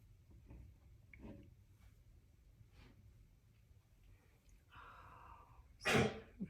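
Honey the dog, in a quiet indoor crafting room, lets out a single sharp, snorting throat-clearing burst near the end, after faint rustling and a soft hiss.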